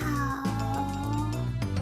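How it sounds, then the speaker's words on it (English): A domestic cat meows over a steady background tone, with a short vocal call near the start and a few more brief cries through the rest. "It's a kitty cat."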